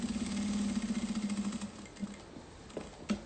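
A sewing machine runs a short burst of steady, rapid stitching on a mate bag (porta chimarrão), then stops and gives a few scattered clicks and light handling sounds. It is close and alone, with no talking.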